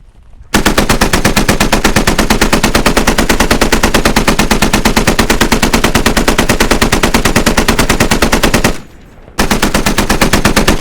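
Machine gun fire sweeping across a target in a video game, a loud, sustained automatic stream of rapid evenly spaced shots that cuts off briefly near the end and then resumes.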